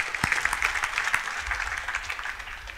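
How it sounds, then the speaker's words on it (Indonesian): A church congregation claps together during a sermon, a brief burst of quick, fairly loud clapping that continues for a few seconds. "Tepuk tangan saudaraku."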